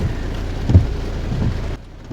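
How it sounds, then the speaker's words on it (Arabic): Heavy summer rain pours steadily in Kartal while a low rumble of thunder rolls through the middle, then the downpour drops off abruptly near the end. "ما شاء الله بدات الشتا دغيا"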